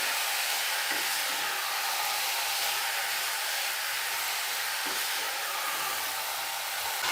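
Rice being stirred together with other ingredients in a pot for shahi zarda, a sweet wedding-style rice dish, giving a steady broadband hiss and sizzle that runs unbroken with no voices.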